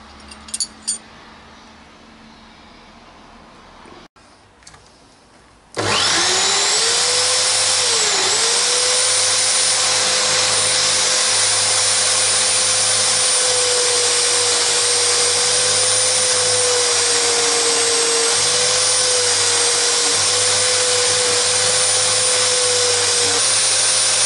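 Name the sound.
wire brushing powder coat off stove part at the vise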